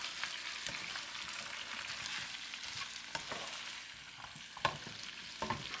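Pork riblets frying over medium heat with oyster sauce and green onions being stirred, a soft steady sizzle broken by scraping and clacking utensil strokes, with no talking.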